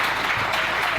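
A church congregation applauds, a short burst of dense, even clapping filling the room at close range.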